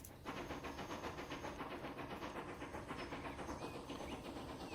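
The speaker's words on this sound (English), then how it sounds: "let's ride along with this passenger train" Passenger train in the Transport Fever 2 video game running steadily, a loud continuous rumble with rapid rhythmic clicking of wheels on rails throughout, no talk.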